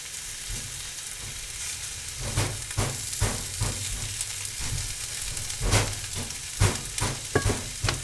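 A Reuben sandwich of corned beef sizzles and fries in a hot pan, a steady soft crackle with occasional louder pops and scraping stirs, no voices.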